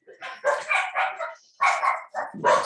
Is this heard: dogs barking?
yes